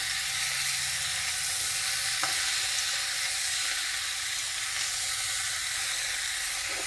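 Spinach fries under a lid in a pan with a steady, dense sizzling hiss that holds even and loud throughout, with no voices.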